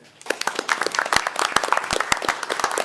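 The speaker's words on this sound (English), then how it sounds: "So I'd like to give her a round of applause." Audience at a Seaford city council meeting applauds a new police officer on her first day driving: a short burst of many hands clapping, sharp uneven claps close by swelling within the first half second and staying dense to the end.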